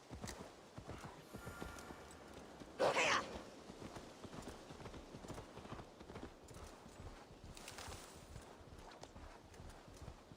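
Horse hooves clip-clopping in the Assassin's Creed Valhalla video game, a quiet, steady run of footfalls with one brief louder burst early on and no talking.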